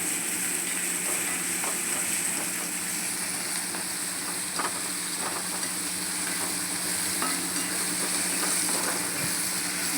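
Onion and garlic-chili thecha sautéing in a pan for Maharashtrian baingan bharta, a steady close sizzle with faint stirring scrapes running evenly throughout, no talk.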